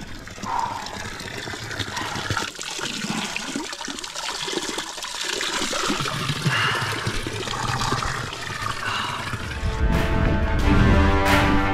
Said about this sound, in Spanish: El chorrito de agua para meter la cabeza.